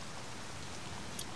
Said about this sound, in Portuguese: Começou a dar raio, depois começou a chover